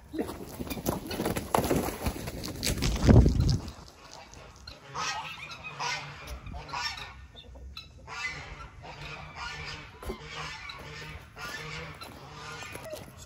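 Geese honk repeatedly in short harmonic calls on a farm animal sanctuary, after a louder burst of scuffling and movement at the start, with the calls continuing at moderate volume throughout.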